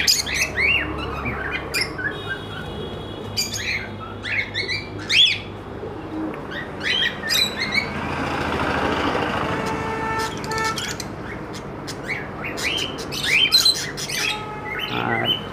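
Budgerigars in a pet bird shop that also keeps fancy pigeons and fish, giving repeated bright chirps and squawks close by over a low background hum.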